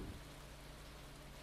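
Rain in the farming game Stardew Valley, a steady soft hiss of falling drops that stays even and faint throughout.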